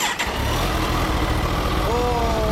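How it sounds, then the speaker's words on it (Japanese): A 2018 Kawasaki ZX-14R motorcycle engine running close by, a loud steady idle with a continuous low rumble that holds throughout, with brief rising tonal sweeps near the end. "ごめん、エンジン音聞かせてもらえる？"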